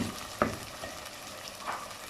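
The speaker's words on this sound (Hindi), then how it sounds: "अच्छे तरीके से जो गोश्त है हमारा भून गया" Chicken pieces with onion and tomato fry in oil while being stirred, giving a low, steady sizzle with one sharp scrape of the spoon early on and a softer one near the end.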